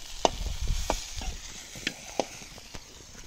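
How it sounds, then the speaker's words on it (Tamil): Onions sauté in a kadai over an outdoor fire in a forest, with a soft sizzle broken by several sharp scraping clicks of stirring. "அந்த கடாயில் அந்த வெங்காயம் அப்படி பூ மாதிரி விதக்கணும்."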